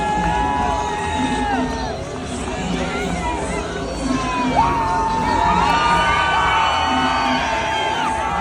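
A stadium crowd cheers and whoops after a football player's marriage proposal, a loud, sustained roar of many voices with shouts rising and falling, with no clear gaps between them.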